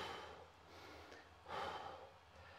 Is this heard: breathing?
yes